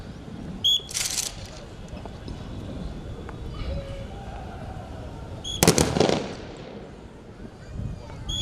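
Rifle fire from constables at a CISF passing-out parade in Deoli: two sharp, loud reports several seconds apart, the second a rapid ragged cluster, over an open-air outdoor background.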